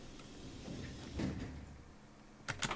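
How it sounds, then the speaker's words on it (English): EN57 electric multiple unit doors slide shut in the train simulator SimRail, a low rumbling slide building to a muffled thud, followed by a couple of sharp clicks near the end. "Doors are shutting."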